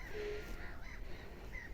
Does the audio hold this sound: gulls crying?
yes